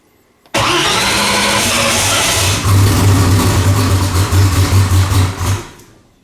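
A Fox Body Mustang engine cranks and catches, roaring loud and close right away, then holding a rough, fluctuating run before dropping off near the end.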